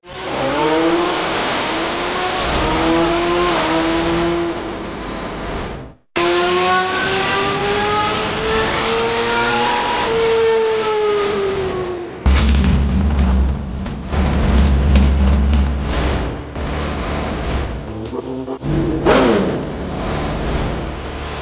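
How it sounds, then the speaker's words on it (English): A 2017 Suzuki GSX-R1000 motorcycle on a dyno, its engine screaming up through the revs in two long, loud pulls, each cut off sharply, followed by a rough idle and short throttle blips. "we've got our 2017 GSXR1000 up on the dyno. It's ready to make some runs"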